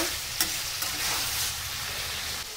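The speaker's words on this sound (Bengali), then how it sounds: "টমেটোটা দিয়ে ভালো করে কষিয়ে নেব" Tomato and chicken for Pakistani chicken masala stir-fry in a pan, giving a steady close sizzle with a few sharp scraping stirs at the start.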